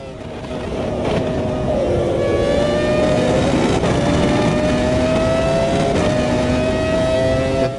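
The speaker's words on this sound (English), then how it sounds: "Only the V10 noise." A V10 race car's engine in the racing simulator Automobilista 2 revs up after a quick start and holds a loud, high-pitched, rising howl. The engine sound stays continuous and up close, with no talking over it.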